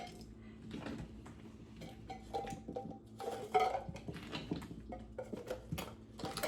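Small leftover advent calendar toys drop into little Beekman cans, making light plastic and metal clinks and rattles in scattered bursts at close range.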